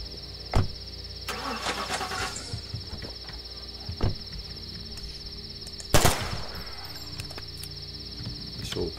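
A car engine in the video game The Last Stand: Aftermath sputters through starting attempts, with sharp cranking bursts and clanks spaced apart over a steady high insect-like drone.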